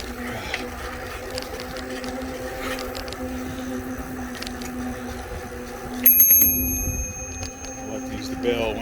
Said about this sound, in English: I like to use the bell when I come around a blind curve